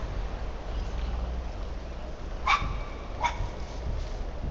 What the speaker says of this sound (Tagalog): Ba't may aso?